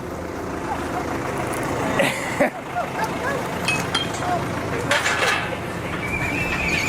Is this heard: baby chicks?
no